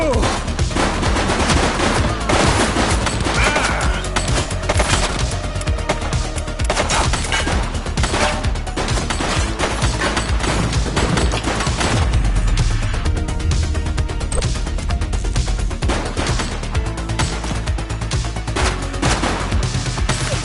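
Rapid bursts of automatic gunfire from the police video game The Precinct rattle almost continuously, loud and dense, with a faint voice briefly under the shooting.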